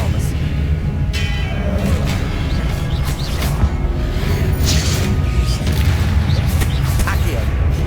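Spells such as Accio, Levioso and Expelliarmus are cast in the Hogwarts Legacy video game, producing a loud, continuous mix of magical whooshes, booms and crashes. A voice calls out over the effects.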